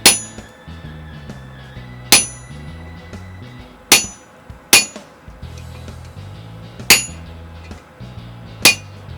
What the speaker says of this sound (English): And I'm taking my handled chisel to cut off one entire coil.